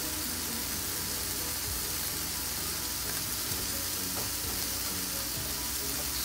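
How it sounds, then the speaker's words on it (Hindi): Potatoes frying over high heat in a pan with a spoonful of garam masala, giving a steady, dense sizzle that runs evenly throughout with no voices. "तेज आंच पे हमने आलू को थोड़ी देर तक फ्राई कर लिया है।"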